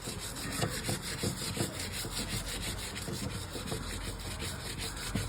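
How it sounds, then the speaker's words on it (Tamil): A stiff brush scrubs laundry by hand in rapid back-and-forth strokes, a steady close rasping texture with no talk. "தேய், இதை ப்ரஷ் எடுத்து தேய்"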